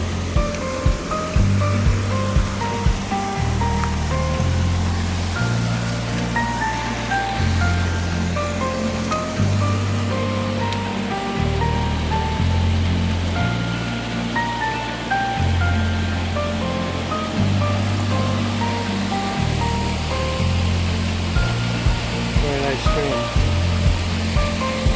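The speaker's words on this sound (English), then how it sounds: "came up to this beautiful mountain stream and waterfall." A mountain stream and waterfall on the Tour du Mont Blanc trail rush with steady broadband noise, mixed with a melodic musical line and occasional talking.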